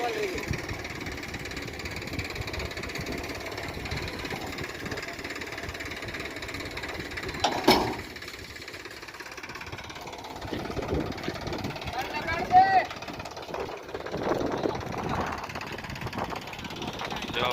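A tractor engine runs steadily while chickpeas are unloaded at a farm threshing yard, a continuous mid-level rumble throughout with people talking over it and a few brief louder knocks.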